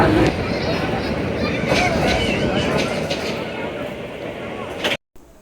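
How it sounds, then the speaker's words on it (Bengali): A commuter train rumbles steadily along with a continuous low roar and rattle, loud and close, before cutting off abruptly near the end. "ট্রেনটি কিন্তু ধীরে ধীরে তার গন্তব্যস্থলের দিকে এগোচ্ছে।"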